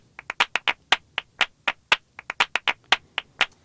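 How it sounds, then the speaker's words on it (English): Flamenco-style hand clapping in a sharp, dry rhythmic pattern, about twenty crisp claps with close, uneven spacing that suggests syncopation. The clapping is loud and close, with no other sound around it. "I'm going to pick a clip called Clapping Flamenco here, so we'll listen to the preview."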